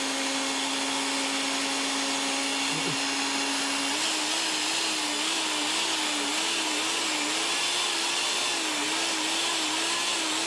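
An electric mixer whirs loudly and steadily, its motor pitch wobbling slightly as it churns, with no talking over it.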